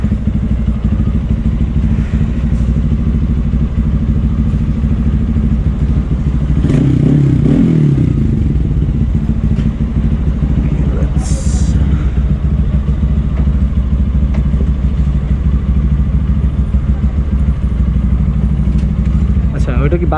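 Speeder NSX165R motorcycle engine idling with a steady low rumble, loud and close, with brief clattering and revving bursts midway; a person talks over it.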